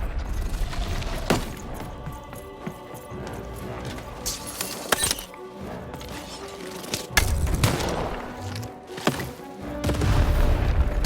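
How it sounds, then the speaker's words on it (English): Cannon fire and battle effects in the video game Lost in Random: several deep booms and sharp impacts spread over a busy, clattering mix. "Shoot the button to fire the cannon."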